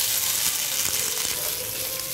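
Grated coconut roasting in a pan gives a steady, close sizzle and faint stirring scrapes with no talking over it.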